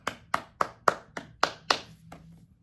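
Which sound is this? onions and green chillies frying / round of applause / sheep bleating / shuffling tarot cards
round of applause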